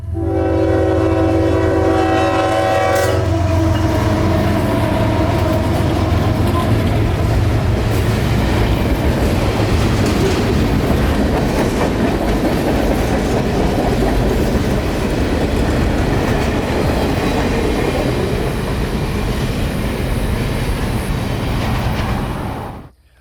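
A juice train on the Palmetto Sub sounds a loud chorded horn blast at a crossing, then rolls past close by with a heavy continuous rumble and clatter of cars that stops abruptly.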